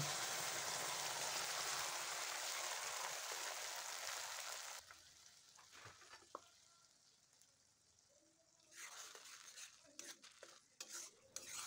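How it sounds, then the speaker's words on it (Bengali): A paste of tomato, onion, garlic, ginger and green chilli hits hot oil with a loud, steady sizzle, dropping after a few seconds to softer frying with occasional stirring clinks and scrapes. "এই পেস্টটা আমি এখন এই গরম তেলের মধ্যে দিয়ে দেব।"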